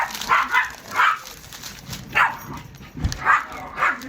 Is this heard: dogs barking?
yes